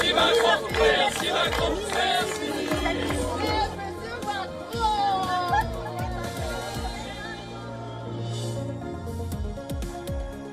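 Crowd greeting French President Emmanuel Macron after a Bastille Day parade, a lively mix of cheering, shouting and chatter from many people, close and sustained with voices overlapping throughout.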